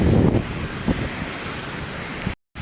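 Sea waves washing onto the beach at Kozhikode, a loud, steady rushing roar with gusty wind buffeting the microphone, broken by a brief sudden cut near the end.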